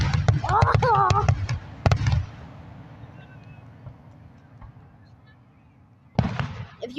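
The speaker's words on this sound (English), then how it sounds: "The fireworks are lighting up the sky." Independence Day fireworks burst in the sky with a few sharp booms and lingering crackle, while people exclaim and react loudly over the explosions.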